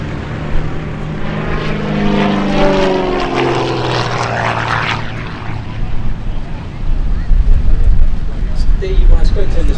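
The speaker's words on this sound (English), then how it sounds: "very light aeroplane, lots of power, straight up into a half loop." A Gamebird GB1 light propeller plane roars past at an airshow, climbing into a half loop, its engine pitch climbing and fading as it pulls away, while someone talks over it.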